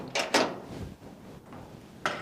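A barn door being opened during lambing season, heard as a couple of sharp mechanical clunks and scrapes early on and another bump near the end, close and fairly loud, with no voices.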